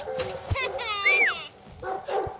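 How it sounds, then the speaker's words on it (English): A sheepdog barks while working sheep at a farm demonstration, sharp barks standing out near and loud over a busy outdoor background, with a person talking. "the bark is just giving him a lot more power than the heading dog on its own"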